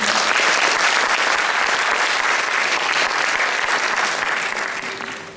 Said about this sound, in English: ladies and gentlemen, a round of applause for our performance again